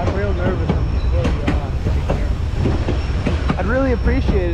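White Pass train running, a steady loud rumble of wheels on track with clicks and whining squeals, and a voice faintly audible beneath.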